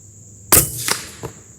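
Suppressed Remington 700 in .308 firing a subsonic hand load of 7 grains Trail Boss: one sharp, muted crack followed by two softer mechanical clacks, all close and without voices.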